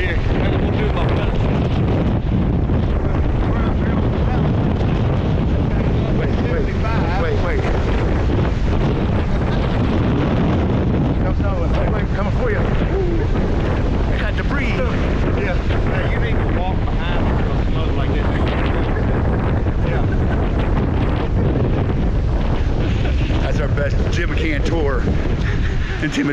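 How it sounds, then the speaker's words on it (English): Strong wind gusting to 55 miles an hour buffets a mountaintop in Colorado elk country, a loud, continuous roar of wind noise hammering the microphone without letup. "We got gusts of 75 mile an hour up here on the top of the mountain."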